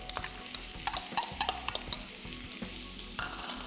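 Onion and red chili tipped into a hot pan for fish curry, crackling and sizzling at close range with quick clattering stirs and scraping bumps.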